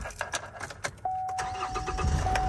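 A camper van's diesel engine cranks and fires up after a moment of clattering and handling noises, then settles into a steady running hum.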